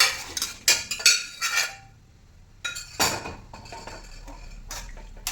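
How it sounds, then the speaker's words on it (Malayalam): Chickpeas being stirred in a cooking pot of boiling water, a handful of close metallic clinks and scrapes of a spoon against the pot in short bursts separated by quiet gaps, with no talking. "നല്ലതുപോലെ ഒന്ന് ഇളക്കി കൊടുക്കണം"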